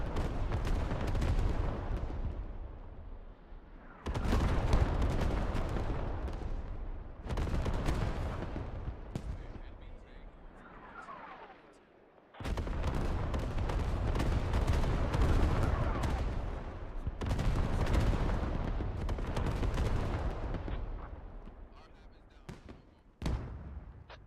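Artillery strike pounding fortifications in the military game Squad, with heavy blasts and gunfire in loud, dense waves, several sustained barrages broken by short lulls and a final sharp crack.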